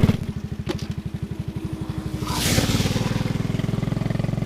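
A motocross dirt bike, its rear wheel wrapped in chains for grip, rides a slippery rainy-season road, its single-cylinder engine chugging in a steady low pulse before swelling into a louder rev and holding there.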